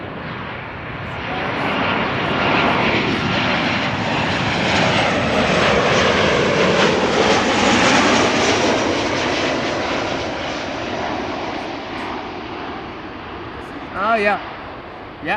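A Transavia Retro airliner departs Amsterdam Schiphol Airport, its engines swelling into a loud, broad roar that peaks mid-passage and slowly fades, while voices speak briefly near the end.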